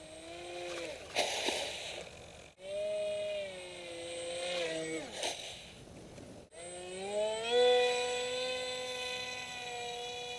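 An RC F-35 model jet flies with its flaps deployed, its electric ducted fan giving a steady whine whose pitch rises and falls as the throttle changes, heard continuously from moderate distance with brief dropouts.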